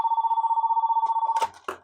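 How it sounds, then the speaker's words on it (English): A desk telephone on a Cisco router line rings after being dialed: a steady electronic ring tone holds for about a second and a half, close and loud, then breaks off as the handset is picked up with a couple of clunks. "this phone rings."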